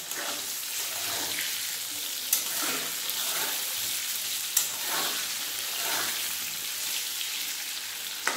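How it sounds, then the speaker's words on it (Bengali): Pointed gourd and potato frying in oil with turmeric, an even close sizzle throughout with a few sharp clicks of a utensil against the pan. "পটল আলু ভালোভাবে ভাজা হয়ে গেছে"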